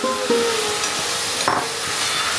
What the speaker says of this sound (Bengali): আমি এই মটর ডাল আর ছোলার ডাল যে সিদ্ধ করে রেখেছি আমি পুরোটা ঢেলে দেব